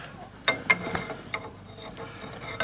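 A lock nut is tightened with a wrench during a repair in a cowshed. Several sharp metallic clicks and ratcheting ticks come at irregular intervals, close and moderately loud, with no talk.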